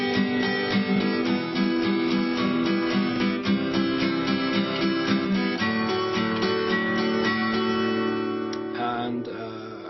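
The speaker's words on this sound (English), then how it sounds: "If I changed it slightly and strummed down and then up on the 8th notes, it would sound like this." Close, clear guitar strumming alternates down and up strokes in steady eighth notes, a continuous rhythmic chordal pattern with a chord change partway, fading slightly at the end, with no talking.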